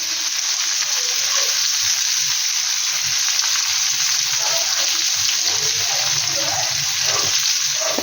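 Ground spices with cumin powder sizzle and fry steadily in a hot pan, a dense continuous hiss with faint stirring scrapes throughout, close and loud.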